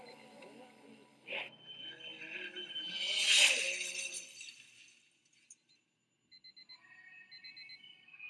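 An alarm clock rings faintly in a music video, rising to a brief bright jangle mid-clip and then fading to quiet bursts amid the music.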